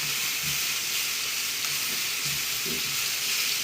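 Chicken pieces sizzle and fry steadily in a skillet while being browned, with a constant hiss and occasional soft stirring knocks close by.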